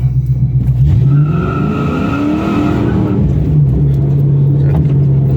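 An SN95 Ford Mustang engine with a 4R70W transmission roars steadily during a burnout on a private road while tires squeal in a long rising and falling whine, loud and close, with no talking.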